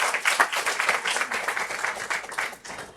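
Audience applause fills the hall at the valedictory program of a one-day national workshop on mathematical sciences: dense, steady clapping from many hands at moderate volume, sustained for the whole stretch without any talk.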